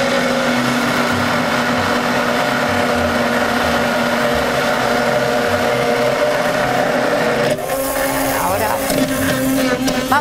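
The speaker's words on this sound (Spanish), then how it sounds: "La batidora de mano al fondo y comenzamos a batir." A handheld immersion blender whirs steadily while emulsifying olive oil with other ingredients, a loud continuous motor drone that shifts pitch near the end as the mixture thickens.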